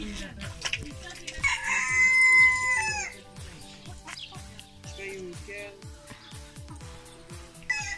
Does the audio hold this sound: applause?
no